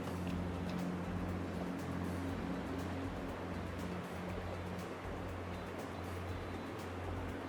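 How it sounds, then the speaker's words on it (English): Engine of a small boat at sea off Eastbourne, a low steady droning hum under the wash of waves, faint and continuous. "That engine is obviously a little vessel of some kind"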